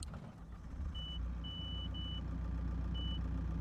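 Antonio Carraro tractor in the Farming Simulator 22 video game, its reversing alarm giving a few thin, evenly pitched beeps of uneven length over a low, steady engine hum.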